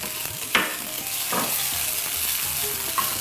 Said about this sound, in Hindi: ये हमारा अदरक लहसुन भी इसमें भुन चुका है।